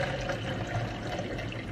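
Water pours steadily into a container at lunchtime, a continuous splashing, gurgling stream heard close up with no voices.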